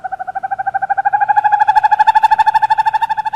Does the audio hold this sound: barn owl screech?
yes